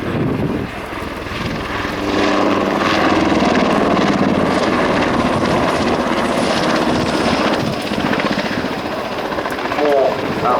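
An NH90 helicopter roars steadily close by during an air display, its rotor chop and engine whine loud throughout, with no speech.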